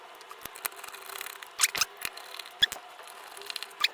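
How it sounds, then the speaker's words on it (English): Small metallic clicks and scrapes from a screwdriver working screws out of a Mac Mini G4's internal housing, a few sharp ticks scattered across a quiet, close-up stretch with no talking. "now I need to remove some screws"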